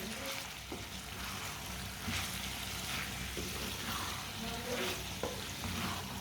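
Turnips cooking in a pan for a Punjabi-style shalgam dish, a dense continuous sizzle with a spoon stirring and scraping through the pieces at intervals.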